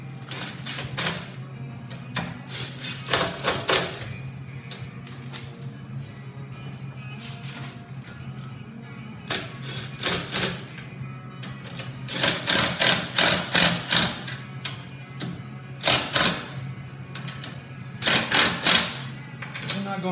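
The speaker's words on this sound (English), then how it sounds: "Tighten these U-bolts." U-bolts on a Polaris Slingshot hitch tightened with a ratchet, giving bursts of rapid close clicking that come in short runs with pauses, over a low steady hum and with talking in between.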